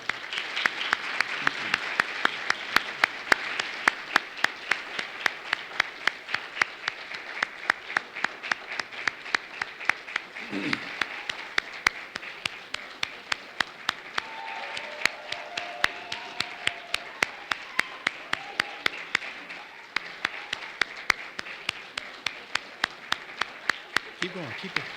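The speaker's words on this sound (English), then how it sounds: "Give them a round of applause" An audience at a 2025 Teacher of the Year ceremony for Portsmouth City Schools gives a steady round of applause. It continues for the full length, with sharp rhythmic claps standing out near the microphone and faint voices underneath.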